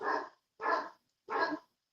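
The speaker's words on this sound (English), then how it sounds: "That's my dog who's barking." A dog barks three times in an even rhythm, each bark short and full, fairly close, with silence between and no other sounds.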